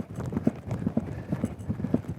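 A horse is ridden along a racecourse track, its hooves clip-clopping in a steady, relaxed rhythm, moderately close with a little background noise.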